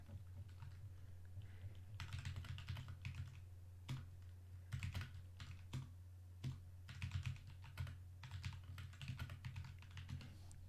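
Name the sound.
typing on a computer keyboard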